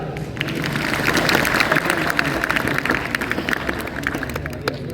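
An audience claps for teachers at a gathering, a dense and sustained burst of applause that stays fairly loud throughout.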